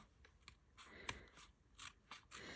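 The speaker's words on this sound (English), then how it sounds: "I wonder if these scissors will cut it." Scrap scissors cut through a paper envelope at close range, making a series of quiet, crisp snips and crunching slices spaced irregularly, with faint rustling between cuts.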